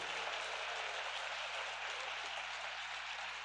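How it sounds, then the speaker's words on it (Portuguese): A church congregation claps for Jesus, a dense, sustained round of applause from many hands, even and continuous, with no speech over it. "Alguém pode dar uma salva de palmas"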